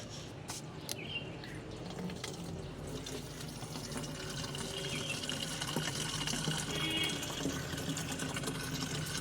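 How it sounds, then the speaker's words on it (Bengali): Tap water runs steadily into a container being filled for watering plants, a continuous splashing gush that slowly rises in level, with faint birdsong in the background. "তো চলো জলটা আগে ভরে নিই।"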